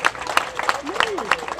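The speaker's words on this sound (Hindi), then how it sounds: "मुझे लगता है कि दास साहब के लिए हमें बहुत बड़ी तालियों का है।" A crowd applauds at the inauguration of a beautified garden area in Noida, with scattered clapping running steadily under a voice speaking over it.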